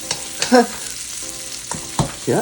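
Onion, garlic and ginger sautéing for adobong tahong, a soft sizzle under scraping and clattering stirs from a spatula, with irregular louder knocks against the pan.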